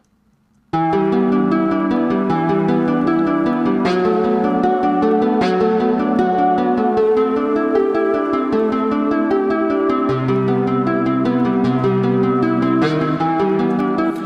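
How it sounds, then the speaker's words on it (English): A flowing melody on nylon string guitar over soft chords, played continuously with a warm, plucked tone and steady rhythm, close and clear. "I started it on a nylon string guitar sound."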